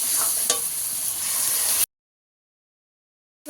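Spice masala for a Bengali fish kalia stir-fried in hot oil, a steady close sizzle with stirring scrapes for under two seconds, then abrupt silence.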